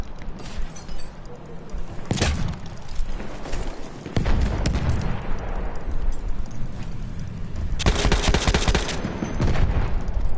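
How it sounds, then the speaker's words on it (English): Battlefield 1 combat in the Summer Nights DLC map: rapid bursts of close gunfire crackle throughout, with heavy booming blasts from a grenade explosion. Loud, dense fusillades alternate with short lulls, no talk. "Ich werfe eine Granate."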